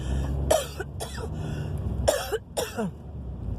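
A person with the flu coughs several times in two clusters, close and fairly loud, with short pauses between the hacking bursts.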